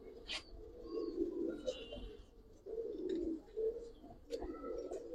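Giribaz pigeons in a loft coo softly in repeated low, rolling calls with brief higher chirps between them, close and quiet with no voices over them.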